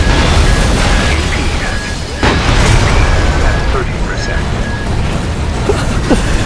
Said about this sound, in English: at least I did detonate my assault armor